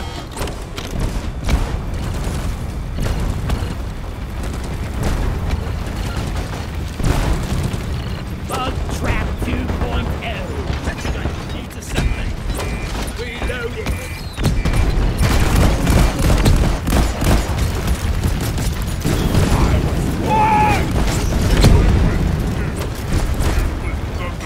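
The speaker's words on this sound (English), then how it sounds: "Explosives! Fire attack!" Explosions and gunfire from the Deep Rock Galactic co-op shooter during a drilldozer escort mission, with dense, continuous bursts and booms that swell louder in the second half, mixed with game effects and voices talking.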